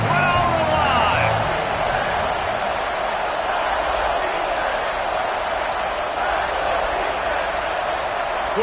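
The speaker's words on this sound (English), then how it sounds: "Crowd alive." Steady stadium crowd roar from a College Football 26 game during a red-zone third down, a dense continuous wash of many voices holding at the same level throughout, with a brief announcer-style voice near the start.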